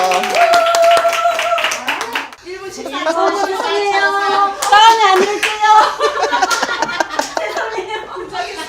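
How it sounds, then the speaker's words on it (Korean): Audience members clap during an outdoor street game busking show, bursts of hand claps mixed with chuckles and laughter while a voice talks over and between them. "박수 한번 주시죠."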